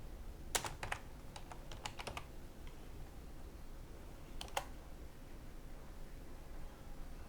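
Keystrokes on a computer keyboard while typing a search for kids flat design, a quick burst of close, crisp clicks early on and a second short cluster later, over a faint steady hiss.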